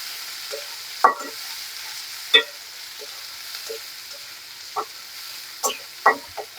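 Onion and green chillies frying in a pan for noodles, a soft low sizzle broken by several sharp scraping stirs of a spatula, spaced irregularly and heard close.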